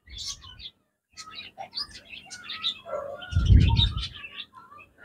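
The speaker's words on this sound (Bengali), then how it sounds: "আর সাথে পাখির কিচিরমিচির ডাক।" Budgerigars bathing give scattered, bright chirps and twitters close by, with a soft low splash or flutter partway through and no talking.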